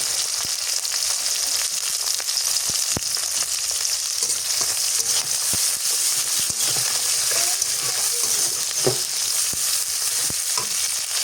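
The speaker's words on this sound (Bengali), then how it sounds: "শাক ভাজি কিংবা ঝোল খাইতে গেলে রসুনটা একটু বাদামি কালার করে ভাজতে হয়" Garlic and leafy greens frying in oil, a continuous close sizzle with occasional soft crackles and stirring taps.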